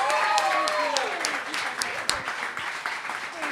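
An audience applauds a singer at a live performance, with steady crowd clapping and scattered sharp claps over a cheering voice that sweeps up and down.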